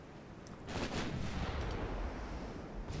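Naval gun salvo in the DIP strategy game, a deep booming burst of several overlapping shots rolling into a rumbling tail, fairly loud with no voices.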